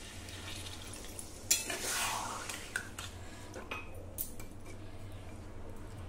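Chicken curry being stirred in a pot, with a soft steady simmering hiss under a few scraping stirs and light clinks of a utensil against the pot, quiet and close.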